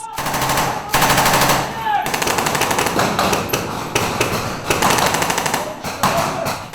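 Marines and Guam National Guardsmen firing blank rounds during a training exercise: loud, rapid automatic bursts close by, with short breaks between volleys and overlapping shots from several weapons.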